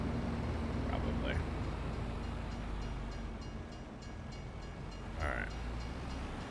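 A train passing a crossing in the Farming Simulator 25 video game rumbles steadily and fairly faintly, with brief higher tones and someone talking over it.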